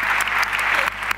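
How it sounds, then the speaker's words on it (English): Brief applause from a medical conference audience for a patient brought on stage, a short burst of clapping with a low steady hum beneath it. "Give her a round of applause, please"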